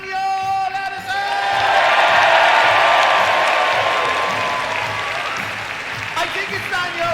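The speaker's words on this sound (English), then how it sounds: "Big clap, big clap over there" Audience at the UK Pun Championships 2023 in Leicester, applauding and cheering in a boxing-ring venue: a swell of clapping and whoops rising after a second, peaking, then fading, with a voice talking over it at the start and end.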